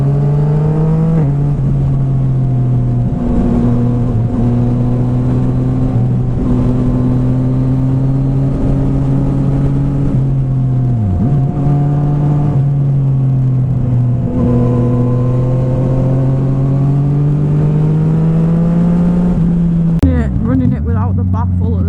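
A Yamaha MT-09 SP motorcycle with an Akrapovic exhaust, run without its baffle, drones loudly and steadily while being ridden, its engine note holding level with slight pitch dips and rises before a brief drop near the end.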